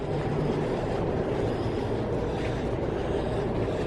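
A train rumbles steadily through Bletchley station, a continuous low roar at close range that holds level for the whole stretch, with no voices over it.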